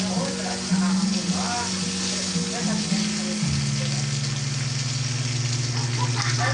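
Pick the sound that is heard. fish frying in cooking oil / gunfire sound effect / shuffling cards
fish frying in cooking oil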